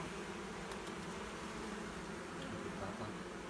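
Honey bees hum at an open hive during an inspection while a honey super is added, a faint, steady swarm drone with no pauses and no talk.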